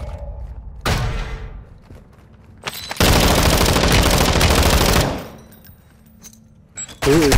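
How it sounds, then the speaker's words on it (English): Bursts of automatic gunfire in the shooter game Warzone 2.0: a short burst, then a sustained two-second volley of rapid shots, loud and close, with quieter gaps between. "Who is shooting?"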